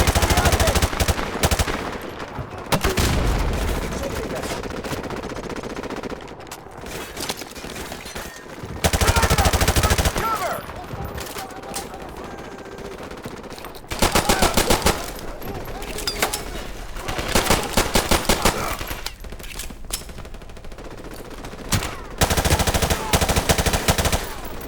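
Gunfire in Call of Duty 4 Remastered, with bursts of automatic rifle fire and single shots in uneven clusters, loud and close, mixed with shouted game voices.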